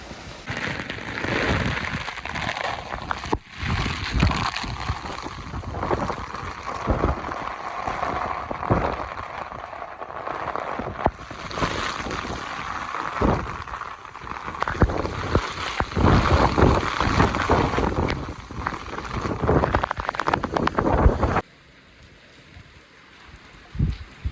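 Steady, dense stormy rain roars on a mud house throughout, loud and close with gusty, wind-like bursts, then drops off sharply near the end.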